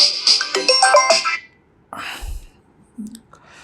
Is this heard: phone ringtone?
yes